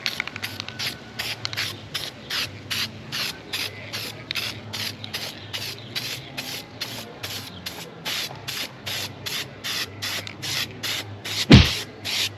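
Rapid bursts from a spray can lay a second coat of paint on an engine, a long run of short, evenly repeated hissing sprays close by, ending with a brief scrape.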